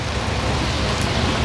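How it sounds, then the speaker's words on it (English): Heavy rain pours down outside a riverside restaurant, a dense, loud, unbroken hiss of water hitting surfaces nearby with no voices. "It's pouring down rain."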